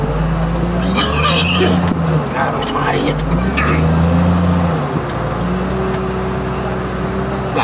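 A heavy machine's engine drones and revs while it runs over junked cars packed tightly in a scrapyard, with crunching scrapes and clanks on top. Someone talks over the noise close by.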